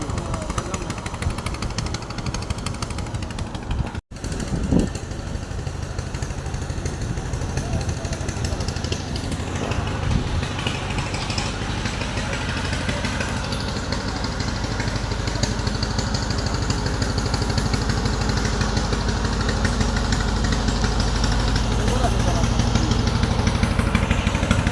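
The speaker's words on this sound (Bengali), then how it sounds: "এই ট্রলারটা সুন্দর আছে না?" A trawler boat engine chugs continuously nearby on open water, a loud, steady mechanical rattle with rapid pulsing that holds for the whole stretch, with a brief sharp knock early on.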